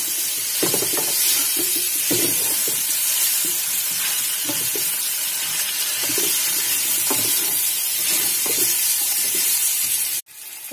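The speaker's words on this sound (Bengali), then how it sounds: "এবারে এটাকে ভালোভাবে স্টার করতে হবে।" A beetroot and carrot curry with coriander and turmeric powder being stirred in a hot pan, a steady loud sizzle and hiss with a spoon scraping and stirring in irregular strokes, close by with no talking, ending abruptly.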